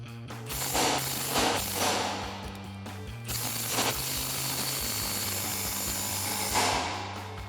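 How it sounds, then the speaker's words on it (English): Ratchet socket and wrench removing shock bolts on a 2014-2020 Ford F-150, a series of close clicking ratchet strokes in uneven bursts with brief pauses between them. "we can go ahead and remove our shock using our 15mm socket and our 18mm wrench"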